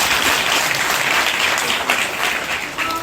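Dense, continuous audience applause for a head of state at a formal public event, loud and sustained throughout with no pauses.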